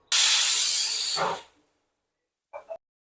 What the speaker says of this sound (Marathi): आपण आता कुकरला लावल्या चार शिट्ट्या करून घेऊ